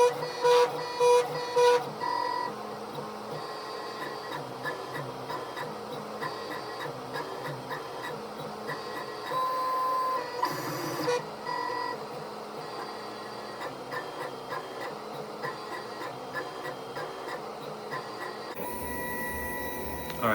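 A Roland CX-24 vinyl cutter buzzes and whirs mechanically as its sensor reads print crop marks. The carriage motor drones steadily with a few short stuttering bursts and shifts, close up and with no speech.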